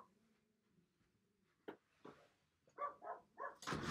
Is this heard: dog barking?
yes